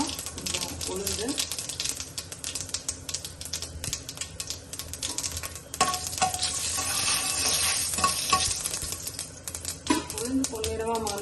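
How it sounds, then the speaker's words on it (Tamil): Mustard seeds sizzle and pop in hot oil, a steady crackling fry with scattered sharp ticks and occasional stirring, close by. "எண்ணெய் காஞ்சதுக்கு அப்புறமா கொஞ்சோண்டு கடுகு, கடுகு பொரிச்சதுக்கு அப்புறமா கொஞ்சம் உளுந்து,"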